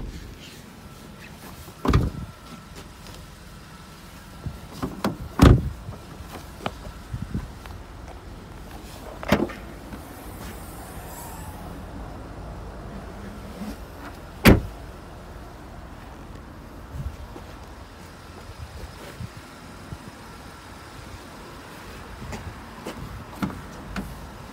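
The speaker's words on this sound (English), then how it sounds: "electric front windows" Electric front windows on a Vauxhall Corsa run with a soft, faint motor hum, broken by several sharp clicks and thumps spread over the stretch, with no one talking.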